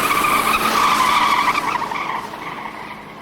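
A truck pulls away down a road, tires squealing briefly as it accelerates, loud at first and then fading as it moves off.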